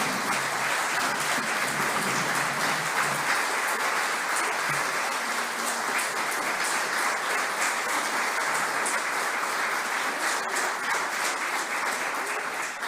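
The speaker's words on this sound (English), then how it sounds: "give them a round of applause" Sustained audience applause for award nominees at the 2023 Australian Capital Territory Australian of the Year Awards, a dense, even wash of clapping from a large room that continues steadily for about thirteen seconds.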